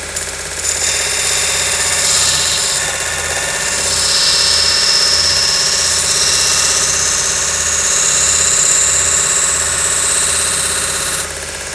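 VEVOR 30 x 1-inch variable-speed belt grinder sander running steadily at 3000 RPM, a loud continuous motor hum and belt hiss with a slowly shifting high whine, no voices.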